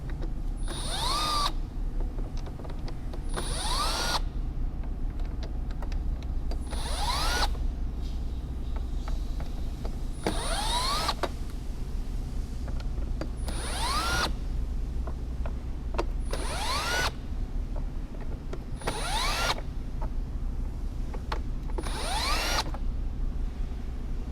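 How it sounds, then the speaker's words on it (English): A cordless drill loosening screws on a Mk1 VW Tiguan's engine air filter housing whirs in repeated short bursts, about nine in a row, each rising in pitch, over a steady low hum. "because I have access to a cordless drill right here, I'm just gonna put it on there"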